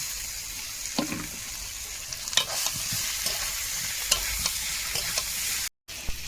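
Potatoes go into hot oil in a pan with taro and fry in a steady, close sizzle, broken by scraping stirs and a few sharp clicks of a utensil against the pan.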